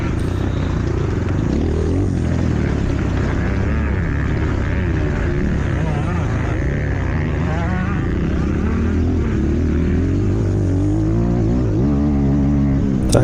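Small Kayo K4 dirt bike engine droning steadily up close during a race ride, with continuous loud motor hum and shifting revs throughout.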